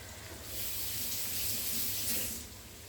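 Tap water runs steadily over raw ground beef being rinsed for a Wendy's-style chili, a close, continuous hissing splash that swells after the start and eases near the end, with no talk.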